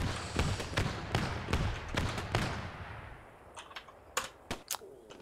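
Sniper rifle shots and other gunfire crack sharply in the WWII shooter Post Scriptum, a rapid string of loud reports followed by a few fainter, more distant shots after a short lull.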